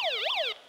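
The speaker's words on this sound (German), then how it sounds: "Und eine Sirene soll es auch geben." A short electronic siren wail from a flashlight radio, sweeping down, up and down again, thin and tinny like a small speaker, cutting off abruptly after about half a second.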